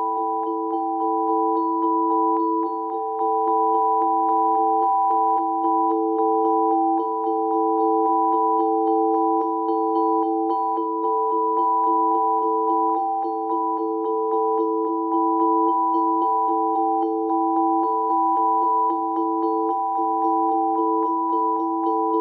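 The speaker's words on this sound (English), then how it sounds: "This is another piece for vibraphone that sounds like this." A vibraphone holds one repeated chord of sustained metallic tones with a fine pulsing shimmer, steady and moderately quiet, with no talking.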